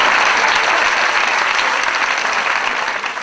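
Enthusiastic applause from a Gujarati comedy audience cheering for the performer's wife, a loud, sustained roar of many hands clapping that eases slightly at the close.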